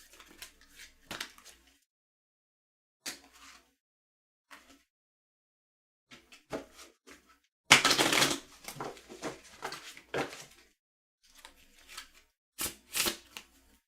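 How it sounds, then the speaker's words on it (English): A deck of playing cards is shuffled in bursts of riffling and ruffling, several short flurries separated by pauses, with one loud ruffle near the middle, close up and without talk. "So we are shuffling."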